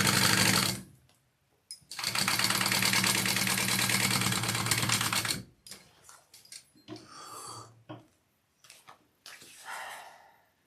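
A sewing machine runs basting stitches on fabric in a long, loud continuous burst of rapid mechanical rattling, followed by shorter intermittent runs and pauses.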